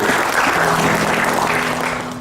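A crowd at a Holiday Inn musical program claps steadily for a recording artist, loud and sustained before tapering slightly at the end, with a faint sustained musical tone humming underneath.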